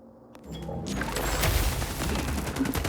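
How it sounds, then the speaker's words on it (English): A grenade goes off in The Expanse: Osiris Reborn, a sharp burst that swells into a sustained rumbling roar with gunfire-like crackle mixed into the game soundscape. "Cover, throw a grenade."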